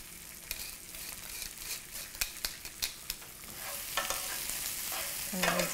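Shrimp and garlic sizzle in a frying pan with a steady hiss, while a utensil stirs and scrapes in a run of sharp clacks and taps.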